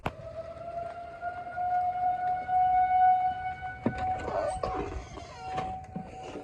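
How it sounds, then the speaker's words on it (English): Tornado warning sirens wail during a storm, a long steady tone that is faint and distant, with rain noise and a few sharp bangs and rustles near the end. "There go the sirens."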